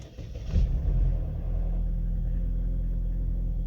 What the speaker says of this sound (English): now the car starts smoothly without having to press the accelerator pedal